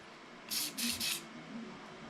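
Three short hissing bursts from a spray can in quick succession, close by, then quiet.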